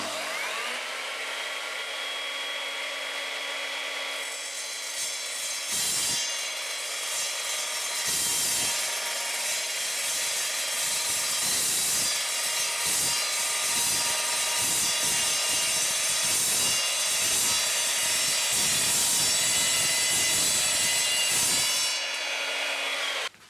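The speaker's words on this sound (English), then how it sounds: "We're going to start off by cutting the metal to the correct length." An Evolution metal-cutting saw runs with a continuous, high whining drone while it cuts metal stock to length. Its pitch dips and rumbles in repeated bursts as the blade bites, loud and close throughout, with no voices.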